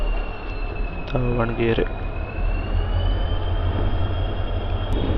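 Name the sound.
EMD WDG4 diesel locomotive hauling train, accelerating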